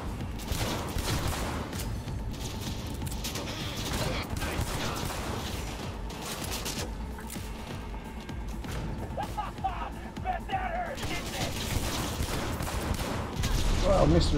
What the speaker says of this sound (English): Well, I missed every freaking shot there.